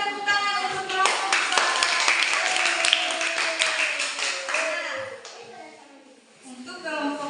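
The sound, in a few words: applause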